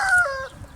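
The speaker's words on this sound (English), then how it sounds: "You hear my rooster, Chanticleer?" A rooster crows once, a clear drawn-out call that falls in pitch at the end, close by and alone.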